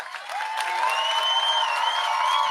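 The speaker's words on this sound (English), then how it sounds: "The whole crowd's cheering." A large crowd cheers and applauds at the State of the Union address, a steady, dense roar with sustained whistle-like tones running above it for the whole stretch.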